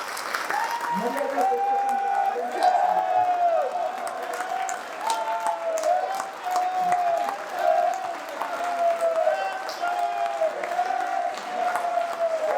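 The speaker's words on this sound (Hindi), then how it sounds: "1 मिनट तक बजती हुई तालियां श्री राम के सम्मान" At a devotional Hindi event honoring Shri Ram, an audience claps with both hands raised, a busy crackle of applause running throughout beneath prominent voices chanting and singing over it.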